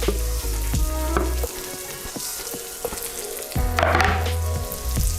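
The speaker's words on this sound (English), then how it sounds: "Ooh, you can hear that sizzle." Garlic sizzles in hot butter in a pot, a loud, continuous crackling fry with clinks and scrapes of stirring against the pot throughout.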